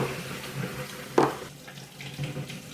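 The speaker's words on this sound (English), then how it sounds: "And we're going to drain them until the water runs clear." Black beans rinsed under a running kitchen tap, a steady close hiss of water splashing through the beans with a brief louder splash partway, no voices.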